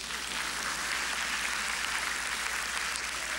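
A crowd claps steadily, a dense, even wash of applause that holds at the same level throughout, with no voices standing out.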